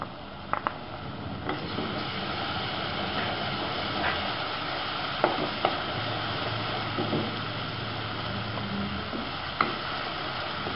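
Onion with ginger garlic paste sautéing in a pan for pav bhaji, a steady dense sizzle with occasional clicks of a spatula against the pan, muffled and continuous with no talking.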